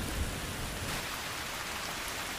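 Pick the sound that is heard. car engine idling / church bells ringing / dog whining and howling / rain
rain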